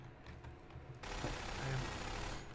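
Gunfire in Half-Life Source co-op against zombies, a sudden burst of rapid dense shots starting about a second in and continuing loudly to the end after a quieter lead-in.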